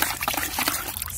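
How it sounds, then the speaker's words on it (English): Soapy water with dish soap is stirred in a bucket, giving a close, short burst of splashing and trickling liquid sounds. "And I actually stir"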